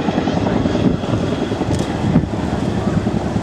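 A heavy military transport helicopter used for battlefield medical evacuation flies at a seaside airshow, its loud broadband rotor and engine roar steady and close, with wind buffeting the microphone.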